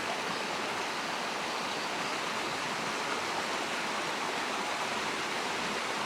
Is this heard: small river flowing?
yes